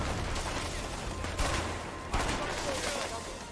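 Gunfire in the video game A Way Out, a dense rattle of rapid shots with a couple of sharper bursts standing out, heard at moderate loudness over a steady noisy background.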